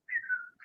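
Someone whistles a short, close, clear tone that slides downward and ends in a brief higher chirp, alone and without talk.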